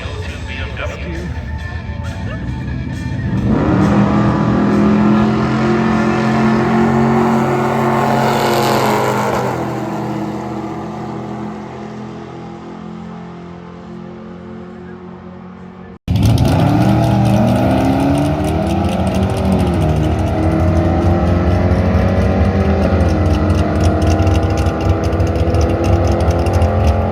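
A 2002 BMW E39 wagon with an LS V8 swap at a dragstrip, the engine loud and close as it revs, builds through rising gear pulls and falls off, then a second hard acceleration run roars again, with speech over it.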